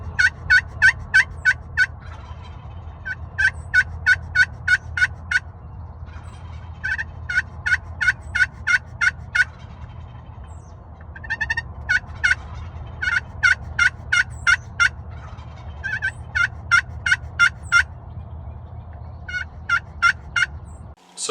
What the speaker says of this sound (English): clips from last year we'll post up above of the turkeys actually gobbling coming into this call